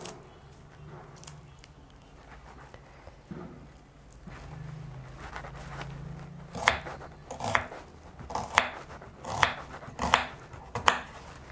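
Knife chopping onions into small dice for a traditional Karnataka-style egg fry, a run of sharp, close knife strikes on a board in the second half, spaced roughly once a second, after a quieter stretch of soft handling.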